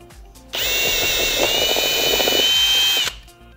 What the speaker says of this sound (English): So let's drill our first pilot hole.